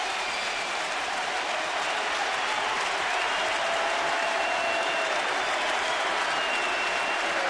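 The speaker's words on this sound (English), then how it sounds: "They gave him a standing ovation" A baseball stadium crowd at a Rangers–Yankees game gives a standing ovation for Mark Teixeira and Derek Jeter, a dense, steady roar of applause and cheering that holds loud and unbroken throughout.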